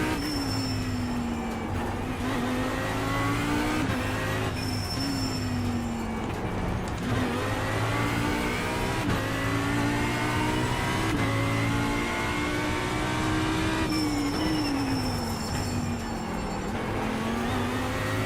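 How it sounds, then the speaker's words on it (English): Audi race car engine in iRacing, revving loud and close in repeated rising sweeps broken by quick gear shifts, with no voices over it. "Have they updated the sound of the engine since they released this car?"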